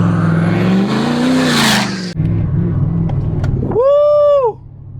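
A Ford F250 with a 6.7 Powerstroke diesel and a newly built turbo accelerates hard, its engine roaring and climbing in pitch, then easing off briefly before a loud, rising turbo whistle near the end.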